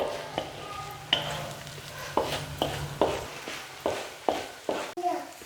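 Rice tossed with masala in a home kitchen pan is stirred in a run of repeated scraping strokes about every half second, close and moderately loud over a low background hum.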